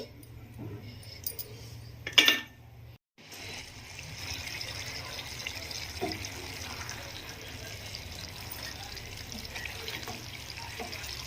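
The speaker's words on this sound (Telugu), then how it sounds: "గ్రేవీ కావాలి అనుకుంటే కొంచెం వాటర్ని యాడ్ చేసుకుంటే మనకి మంచిగా గ్రేవీ అనేది వస్తుంది" Water is poured into a pan of cauliflower tomato curry to make a gravy, a short splash and fill followed by a low, steady simmering hiss.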